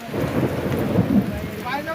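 A heavy thunderstorm rages on a road, with rain pouring down in a dense, continuous roar and a low thunder rumble underneath, loud and close throughout.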